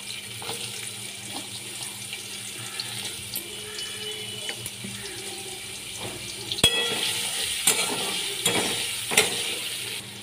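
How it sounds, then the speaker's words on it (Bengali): Small cut potato pieces fry in oil in a pan, a steady moderate sizzle with occasional sharper pops and clinks of stirring toward the end. "এই তেলের মধ্যে এবার আমি ছোট ছোট করে কেটে রাখা আলুগুলোকে ভেজে নিচ্ছি।"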